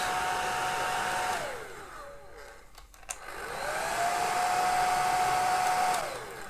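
A Vigo hair dryer blows over long curly hair with a steady, close whine. The tone sinks almost to a stop around the middle, then climbs back up to full speed before tapering off.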